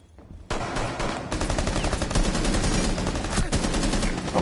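Rapid automatic gunfire in Rainbow Six Siege during an indoor firefight, loud and close, with dense bursts of shots running almost the whole time after a brief quiet start.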